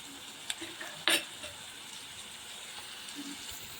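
Onions with salt soften and fry in a pan, a steady low sizzle carrying on throughout, broken by a sharp scrape or stir of the spoon about a second in.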